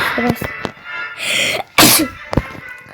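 A loud, sharp sneeze bursts out amid short vocal noises and breathy sounds, followed by a brief click-like burst.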